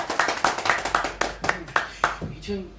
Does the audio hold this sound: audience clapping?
yes